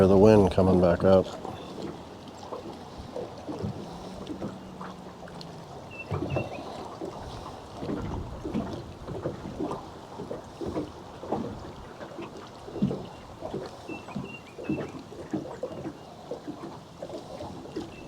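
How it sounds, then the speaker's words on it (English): Gusty wind sweeping across a lake while fishing from a boat with a trolling motor, a low rumbling buffet against the microphone that rises and falls in irregular bursts throughout. "I can hear the wind coming back up."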